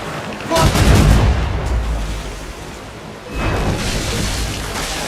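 Ship cannons fire in Assassin's Creed Rogue during a naval battle, with heavy booming volleys in two loud waves over a rumbling sea backdrop.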